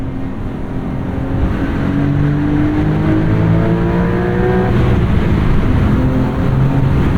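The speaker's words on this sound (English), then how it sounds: "Healthy amount of pull from that turbo motor. Turbo kicks in pretty quickly. Twin turbo." A 2023 Porsche 911 Carrera T twin-turbo engine pulls hard under acceleration, its tone rising steadily through the gears with a continuous loud roar heard from inside the car.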